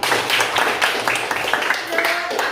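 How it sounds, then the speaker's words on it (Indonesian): Children in a classroom clap together in a brisk burst of overlapping hand claps, lively and close, with voices chattering over and between the claps. "Kasih tepuk tangan dulu."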